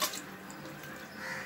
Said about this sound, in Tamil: தண்ணி ஊற்றி வச்சுக்கணும் குக்கரில்